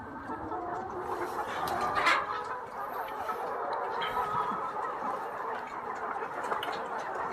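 Mature laying hens in poultry farm laying crates, giving a low, busy mix of soft clucks and throaty murmurs. Continuous and moderately near, with no speech.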